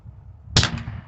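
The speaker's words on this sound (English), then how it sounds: "This is my first time shooting a 50 caliber air gun." A Mercury Rise MUB .50 caliber less-lethal air pistol fires once, a single sharp, close crack that decays quickly after a quiet moment.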